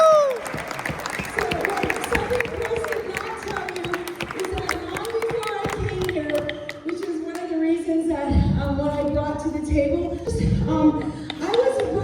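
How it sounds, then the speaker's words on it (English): A crowd at a cultural celebration claps warmly for an honoree, a sustained wash of many hands that runs throughout while a voice speaks over the applause. "please give her a warm and well-deserved round of applause"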